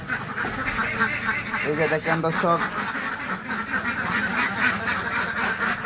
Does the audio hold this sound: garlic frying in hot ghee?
no